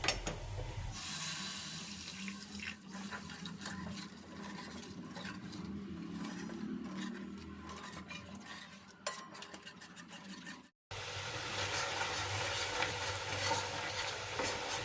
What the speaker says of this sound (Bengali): মানে রান্নাতে কষানোটা হচ্ছে সব থেকে বড় ব্যাপার, এই মশলাগুলো ভাজা।